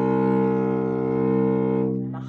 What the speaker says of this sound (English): Our lowest string sounds like this,